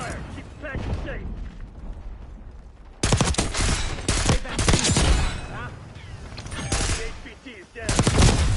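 Gunfire in a video game firefight: bursts of shots and clattering mechanical noise, rising sharply after a quieter opening, with loud crackling volleys coming in waves.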